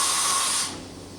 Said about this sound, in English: We're doing a tool change right now, or simulating it.